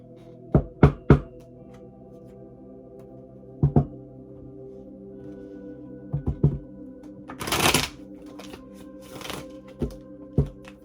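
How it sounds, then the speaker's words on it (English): Tarot cards handled and shuffled, sharp isolated taps and knocks in small clusters followed by a brief riffling burst of shuffling near the middle, close and fairly quiet over a low steady background hum. "I'm gonna get a couple tarot cards"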